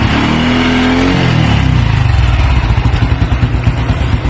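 A misfiring motorcycle engine with a full-wave conversion and no battery revs up sharply, then drops into a fast, throbbing idle that pulses rhythmically, loud and close.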